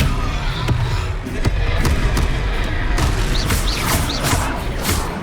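A spell cast in the Hogwarts Legacy video game during a troll fight: booming magical bursts and impacts ring out over continuous battle noise, with sharp whooshing hits and a rising shimmering tone near the end.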